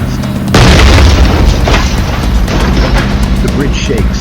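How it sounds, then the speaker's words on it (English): A speeding car slams into a bridge, a loud booming crash of rending metal and clattering glass that erupts abruptly and stays dense and roaring for several seconds, close and heavy. "I listen to the rending metal and clattering glass."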